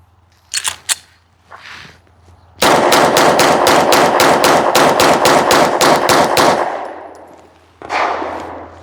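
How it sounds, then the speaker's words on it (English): A PSA Dagger Compact pistol with an SW2 RMR slide and Herrington Arms compensator fires a rapid string of about fifteen loud, sharp shots, preceded by a few handling clicks and followed by echo and a final clack. "I'm just gonna fire off these rounds."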